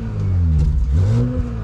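A Porsche Cayenne 3.0 Turbo S E-Hybrid with a sport exhaust, its valve shut, is revved from behind the car, giving a loud, deep, muffled engine drone that rises and falls in pitch.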